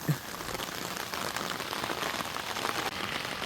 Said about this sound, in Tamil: ஸோ மணக்காட்டில் மழை பெய்யுது